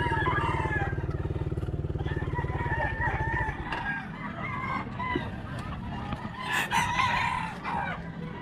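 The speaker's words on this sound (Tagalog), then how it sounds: "Panabong na manok." Fighting roosters at a pet market in Angeles City crow and cluck repeatedly alongside a loud, steady motorcycle engine that drops away midway, leaving scattered nearby clucks, market bustle and faint voices.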